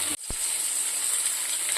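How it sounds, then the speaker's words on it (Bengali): Mashed pointed gourd with prawn, salt and turmeric fries in a pan, producing a soft, steady sizzling hiss with one sharp click near the start. "এখন এর মধ্যে একটু নুন আর হলুদ দেবো, দিয়ে আর একটু সামান্য ভাজা ভাজা করে নেব।"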